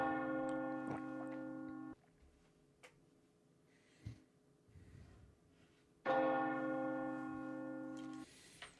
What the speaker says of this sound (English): bell toll in the distance.